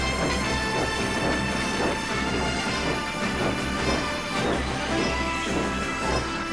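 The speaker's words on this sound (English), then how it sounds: "Henry started puffing backwards, but was slipping on the icy rails." A steam locomotive labors backwards with its wheels slipping on icy rails, giving dense rumbling, rhythmic chuffing and metallic clatter that is continuous and fairly loud, with no voices.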